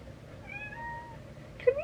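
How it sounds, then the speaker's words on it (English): A cat meows twice, faint and close, with a long drawn-out meow followed by a short sharp one near the end, over quiet room noise. "She's meowing but then walking away from me."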